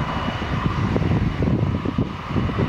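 An airliner at Lisbon Airport roars with a steady, loud engine rumble near the runway, a broad continuous drone with no voices.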